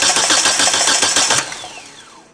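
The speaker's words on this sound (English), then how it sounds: "I'm going to crank it over and we'll have a look at the compression" Starter cranking a 2003 Hyundai engine during a compression test, a loud, fast rhythmic churning for about one and a half seconds that then stops, leaving a fading whine.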